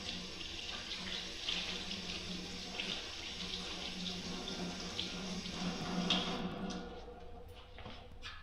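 Water runs steadily from a tap as hands are washed with Dawn dish soap, a continuous close splashing wash, with the flow cut off near the end.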